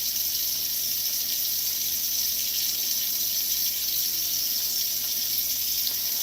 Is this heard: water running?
yes